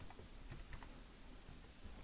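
Typing on a computer keyboard while entering a rotate command in Rhino, heard as a short run of light, quick key clicks over a steady background hiss, fairly faint and with no talking.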